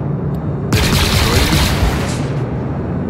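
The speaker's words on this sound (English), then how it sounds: "Taking fire." Burst of heavy gunfire erupting suddenly and loudly, a dense rapid volley of shots that lasts over a second before cutting off, with a voice briefly audible.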